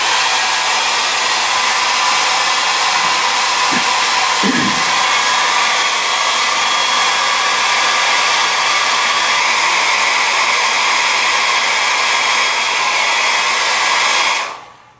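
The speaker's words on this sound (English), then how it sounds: "From here we can go ahead and give this a nice blow dry." A hair dryer blows steadily on acrylic paint on a painting, a loud continuous roar that holds for about fourteen seconds and then cuts off.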